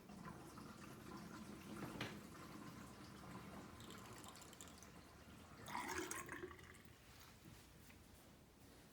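Water draining from a bathroom vanity sink after its slow drain was fixed, heard as a steady low gurgling wash with a louder surge of splashing near the end, fairly close and with no talking.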